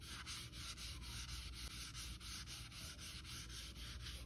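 Folded sandpaper glides left to right across a 3D print during wet sanding, making a steady, close abrasive rubbing with regular back-and-forth strokes about every quarter second and no voices.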